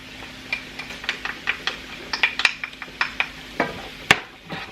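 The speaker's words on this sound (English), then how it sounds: "We're just going to give that a stir." A utensil scrapes and knocks against a pan while garlic is stirred into roasting vegetables, giving a sharp, close series of clicks and scrapes in an irregular rhythm.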